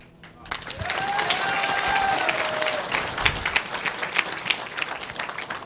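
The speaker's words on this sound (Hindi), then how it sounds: "जिसने सबसे पहले ताली बजाई" An audience breaks into sustained applause, a dense wash of clapping that swells quickly and holds steady for several seconds before thinning slightly, with a few whistles rising above it.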